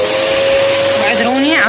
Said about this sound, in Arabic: حضرت المكنسة مالتي وراح ابدي اكنس الاستقبال